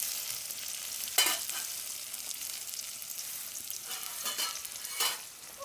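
Onions frying in a pan, a steady close sizzle with a few louder crackling bursts and stirring scrapes, no talking.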